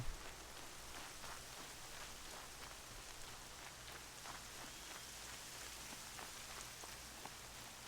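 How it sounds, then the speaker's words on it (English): Rain falls steadily in the video game Horizon Zero Dawn, a soft, even hiss of drops on the ground that holds at a low, constant level and carries no voices. "it's raining."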